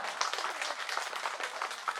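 Children at a school magic show clap for a woman teacher in a soft, scattered patter of small hands that runs steadily for about two seconds.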